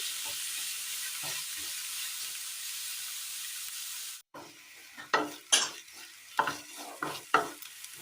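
Onions fry with a steady hiss in the pan, then after a brief cut a spatula scrapes and stirs in several quick, close strokes over a softer sizzle.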